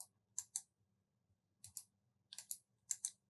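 Computer mouse clicks while working in BERNINA Embroidery Software 8: quiet, sharp clicks in small pairs and clusters, separated by short pauses, with no talking.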